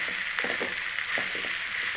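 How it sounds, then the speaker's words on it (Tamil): Peanuts and seasoning tempered in hot oil over a low flame, a steady crackling sizzle with small pops, close and continuous with no voices. "இப்போ இது கொட்டி தாளிக்கிறோம்"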